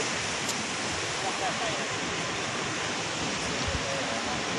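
Strong ocean waves break on a cold beach in Casablanca, Morocco, producing a steady, loud roaring wash of surf with some wind noise and no distinct breaks throughout.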